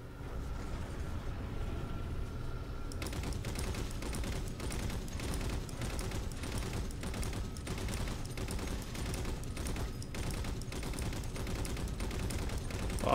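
Sustained burst-fire gunfire in Halo 4, rapid repeated shots in dense volleys throughout, loud and close, with battle noise layered underneath and no talking.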